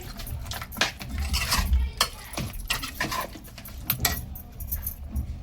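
Kebab mixture stirred in a bowl with a spoon, bringing irregular metallic clinks and scrapes against the bowl, fairly close and moderately quiet.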